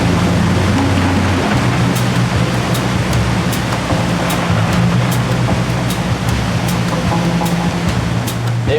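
A waterfall pounds down on a climber roped in and working his way up through the torrent during a rescue expedition, making a loud, steady, unbroken roar of crashing water with no voices.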